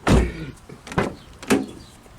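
A 2005 Chevrolet Impala is unlocked and its rear door opened: three separate mechanical thunks and clunks of latch and door, fairly close, with light background noise between them.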